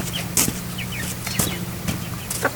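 Hens and roosters cluck in a backyard flock of thirteen hens, two roosters and a chick, short clucks and squawks close by over a low steady hum, with a wing flap or two.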